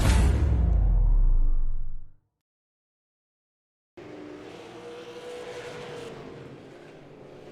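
Super Late Model stock cars race at South Boston Speedway in the iRacing sim. A loud engine drone cuts off into about two seconds of silence, then a steadier pack of engines resumes.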